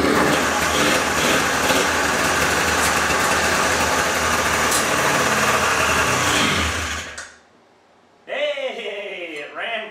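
A John Deere 440 snowmobile engine, sitting for 31 years with a broken choke, runs loud and rough for several seconds and then dies, after which a voice is heard speaking.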